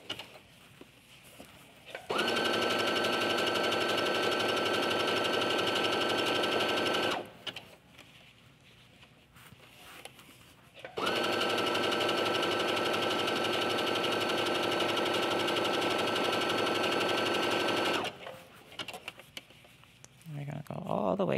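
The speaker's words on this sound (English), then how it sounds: "I'm sewing close to the pin because I'm capturing the seam allowance before I take the pin out." Sewing machine stitching curling knit fabric along pinned raw edges, two long steady whirring runs of about five and seven seconds, separated by a quiet pause with faint handling sounds.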